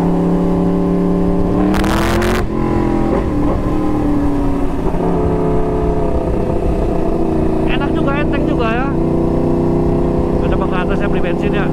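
Motorcycle fitted with an aftermarket Awi exhaust accelerating in second gear, a loud continuous engine drone with rising pitch sweeps and a sharp burst early on, close up, with a voice talking over it.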